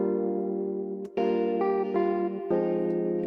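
Layered, mellow guitar parts in a chill music production, sustained tones with a few note changes and short breaks, played without any voices.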